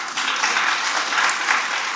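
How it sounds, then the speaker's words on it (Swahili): Audience applause at an International Identity Day event in Homa Bay County, Kenya; a dense, steady wash of clapping from a large crowd, fairly loud and sustained without a break. "Jipigieni makofi"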